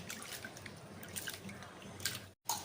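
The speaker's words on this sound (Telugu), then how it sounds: "ఇప్పుడు ఈ వాటర్ అంతా మనం వంపేసుకుందాం" Soaking water poured off soaked chana dal, a faint close trickle and drip of water with light wet squishes, briefly cutting out before resuming at the end.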